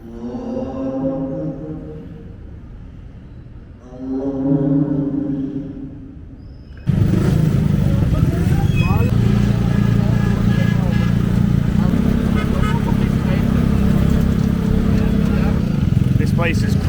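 Busy street traffic in Lahore, Pakistan: a few seconds of tonal, wavering sounds give way to a loud, dense wash of engine rumble and city noise that continues to the end.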